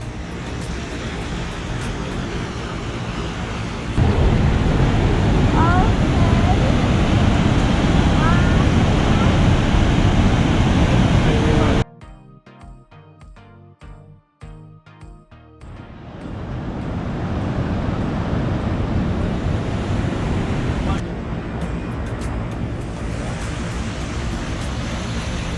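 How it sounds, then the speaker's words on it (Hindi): Water pours with force over Huka Falls near Lake Taupo, New Zealand, making a loud, continuous roaring rush that drops out briefly midway before returning. "आप देख सक रहे हैं पानी किस फोर्स के साथ नीचे से आ रहा है"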